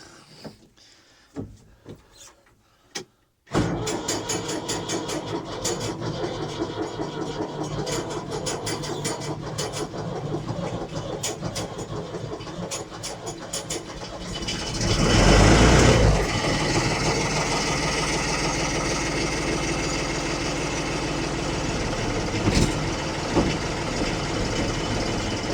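A 1975 Case 550 backhoe engine coughs through a few brief cranking attempts, then fires and settles into a loud, steady diesel idle, with a surge of revving partway through.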